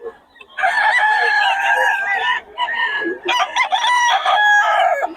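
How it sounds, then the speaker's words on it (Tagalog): Roosters crow loudly and at close range in long drawn-out calls, one after another, with chickens clucking around them, among a large batch of fighting cocks brought from Pampanga. "Ang gaganda ng manok niya ngayon."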